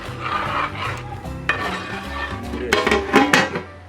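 Turkey curry stirred in a pot after hot water goes in, with close utensil scrapes and knocks against the pot over a soft simmer.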